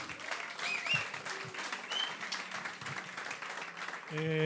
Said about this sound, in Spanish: Quiero un fuerte aplauso para Elías y para Steffi.